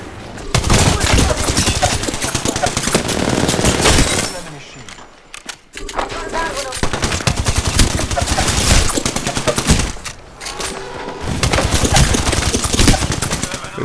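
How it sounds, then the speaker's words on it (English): Rapid enemy gunfire in a video game, bursts of automatic shots rattling loud and close in long volleys with brief pauses, a voice talking over parts of it. "Joker's shooting at me."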